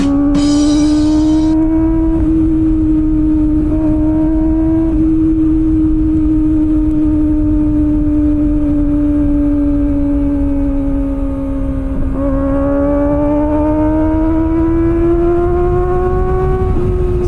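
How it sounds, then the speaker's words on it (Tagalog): A Kawasaki Ninja ZX-25R with its inline engine screams loudly and close up while being ridden, holding a high, sustained howl with brief shifts and rising revs, and no talking. "Iba talaga ang inline screaming engine ng 25R."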